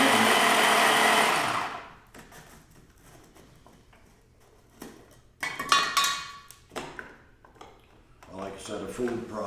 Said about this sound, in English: a food processor is a lot faster than a hand grinding process